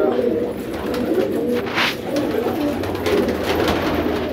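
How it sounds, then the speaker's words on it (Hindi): Pigeons coo softly and continuously, a low burbling chorus close by, with some rustling and light background noise. "भाई ये सारे नए कबूतर है"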